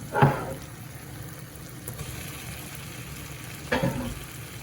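Prawns go into a pan of frying tomatoes and are stirred. A soft, steady sizzle runs underneath two short, clattering bursts, one at the start and one near the end.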